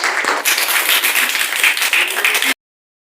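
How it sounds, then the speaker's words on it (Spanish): A secondary-school class claps for a student after a presentation, a close, lively burst of many hands that runs for about two and a half seconds, then cuts off abruptly into silence. "aplausos para Dominic, por favor."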